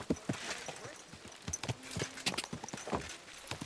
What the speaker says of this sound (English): Well, that's a nice horse.